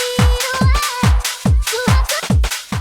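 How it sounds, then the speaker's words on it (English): Punchy speed garage drum loop from a sample pack, with loud booming kicks on a steady beat, snappy hits and short tonal stabs in between, all upfront and clean with no voices. "the only other elements we've got is these drums"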